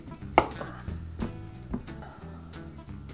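A knife hacks the top off a peeled butternut squash, one sharp chop followed by a few lighter knocks on the board.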